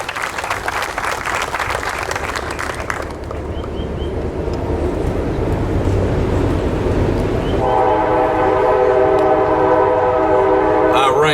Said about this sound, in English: For that train to come at this exact moment.